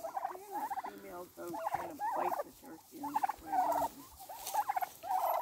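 Several turkeys gobble and warble continuously nearby, overlapping calls rising and falling throughout.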